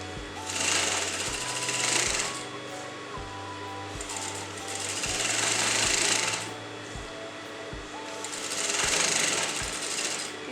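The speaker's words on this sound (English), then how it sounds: "Little by little you're going to sew on the neckline like this to turn the interfacing fabric out" A sewing machine stitches a kurta neckline with interfacing fabric in rapid, steady bursts of mechanical whirring. Three runs of stitching are separated by short pauses, heard up close with no talking.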